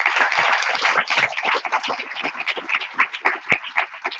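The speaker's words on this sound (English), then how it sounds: "So please give a round of applause for the team." Audience at a hackathon pitch and demo night clapping for the operations team, dense at first and then thinning into scattered individual claps that fade toward the end.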